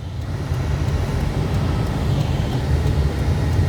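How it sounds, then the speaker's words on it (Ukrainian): A Nissan NP300 pickup with a YD25 diesel engine pulls away under hard throttle, a steady, loud low-frequency drone with road rumble building evenly and without break, no voices present. "Давимо тапку в пол, і він впевнено починає набирати оберти."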